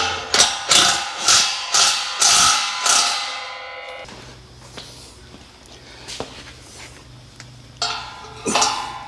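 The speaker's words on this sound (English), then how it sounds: "I'll have to get a spanner on the other one here." A spanner ratchets on a bolt during work on floor joists, giving a quick series of sharp, regular mechanical clicks up close, followed by quieter shuffling and handling noises.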